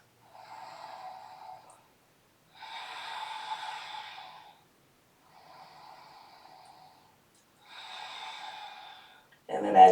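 Slow, deep breaths in a yoga forward fold, heard up close, with long airy inhales and exhales alternating with short pauses, then a brief louder sound at the very end.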